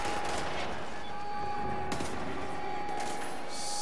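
A pistol in the video game Wolfenstein: The New Order fires a few spaced, sharp shots over a steady background hum.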